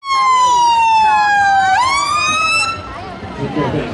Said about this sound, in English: 有 police car， 还有 ambulance， 还有 fire engine。